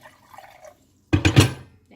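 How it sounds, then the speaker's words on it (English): Hot water poured from a vessel onto herbs for a cured beef paste, a short close splash and trickle lasting under a second after a quiet lead-in. "we're just gonna add a bit of hot water"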